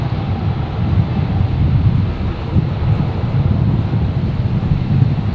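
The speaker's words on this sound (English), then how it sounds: "So Jetstar 803 on final on 19 left here." Jetstar jet on final to runway 19 left at Brisbane in gusty wind: a steady low engine rumble mixed with buffeting wind noise on the microphone, continuous and fairly loud throughout.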